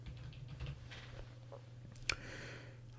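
A handful of keystrokes tap on a computer keyboard, faint and close, with one sharper click standing out near the end over a low steady hum.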